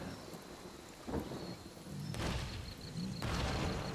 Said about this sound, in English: it's raining and they're wet